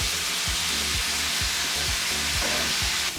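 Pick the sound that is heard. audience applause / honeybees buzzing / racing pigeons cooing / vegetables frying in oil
vegetables frying in oil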